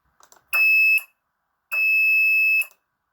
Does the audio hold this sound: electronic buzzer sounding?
yes